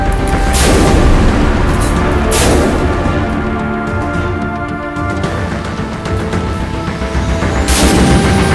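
A 5.56 rifle fires while a red dot sight is zeroed at about 45 metres: a few loud booming shots several seconds apart, close and reverberant over constant outdoor noise.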